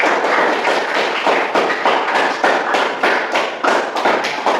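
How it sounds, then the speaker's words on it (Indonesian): A group in a classroom discussion session applauds in steady, rhythmic bursts of clapping that stay loud and close for several seconds, with no talking. "Oke, kami kasih aplaus dulu."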